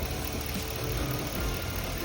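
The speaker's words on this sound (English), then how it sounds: "Have an exhaust leak on the where the Y pipe meets the regular tailpipe before the muffler" A truck engine idles close up with a steady low rumble and a faint ticking puff from an exhaust leak where the Y pipe meets the tailpipe before the muffler.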